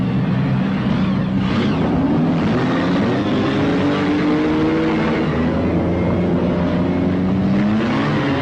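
Production sedan race cars in a 1983 Newcastle heat thunder past together, several engines droning and shifting pitch loudly and continuously with no break.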